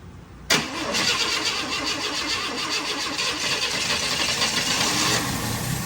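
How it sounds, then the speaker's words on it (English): A 1965 Chevy Bel Air V8 cranks briefly, then catches and settles into a loud, steady idle with a continuous, rough running rumble, close by and alone with no talking. "we'll hook this up and we'll hit the starter button and see what she'll do."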